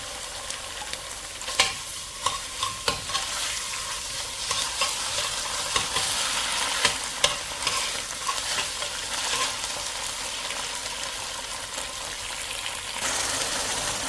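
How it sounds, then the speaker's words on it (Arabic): Tomato paste and onion roast in a pan for red rice, giving a constant, close frying sizzle broken by scattered clicks and scrapes of stirring. "هسه هنا راح اخلي المعجون يحمص ويا البصل على مود التمن الاحمر."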